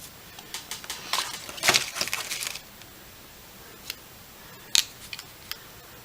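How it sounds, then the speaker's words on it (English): Scissors or cutters snip through a drone's battery lead wire, a few sharp clicks and crackles up close, then scattered small taps and clicks in a quiet room. "So that's where we're going to snip it."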